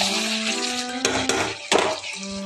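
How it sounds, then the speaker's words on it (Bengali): Fried potatoes being stirred into cooked chicken in a metal pan, with clanking spoon knocks and scrapes against the pan over a steady background hum, close and fairly loud. "আলুটা দিয়ে একটু নাড়াচাড়া করে নেব"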